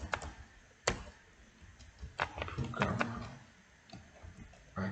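Keys tapped on a computer keyboard while entering text into a web login form, a few scattered clicks and short bursts of strokes over a quiet room background, close and fairly soft.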